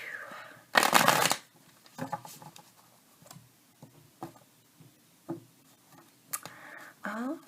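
Tarot cards shuffled by hand, a loud riffling burst followed by scattered soft taps and slides of cards, with a person talking at times.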